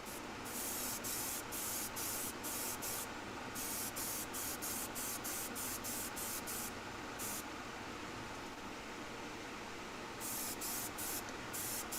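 An airbrush sprays Vallejo paint in a continuous hiss, with rapid on-off bursts of air as the trigger is worked, steady and close throughout.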